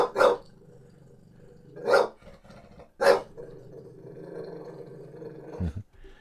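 Sherm the dog lets out three loud, close barks spaced about a second apart, then a low rumbling growl continues, ending with a short final bark.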